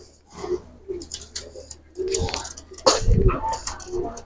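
A male pigeon coos in low, throaty bursts repeated several times at close range, with a few faint clinks and rustles between the calls.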